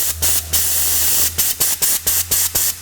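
Bursts of compressed air blowing small metal particles out of a hose during truck assembly: one long loud hiss, then a rapid run of short, sharp blasts, close and alone.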